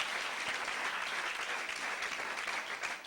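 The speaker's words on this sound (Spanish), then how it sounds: "Démosle un aplauso al Señor Jesucristo." A church congregation claps in sustained applause, a dense, steady wash of many hands at moderate distance with no pauses for the whole stretch.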